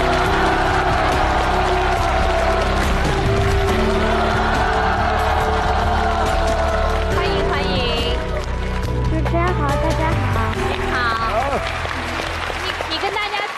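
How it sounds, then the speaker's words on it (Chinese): A studio audience on a Chinese television talk show applauds steadily to welcome a guest onto the stage. The clapping runs through the whole stretch, blended with stage music and a host's voice. "来，掌声有请。"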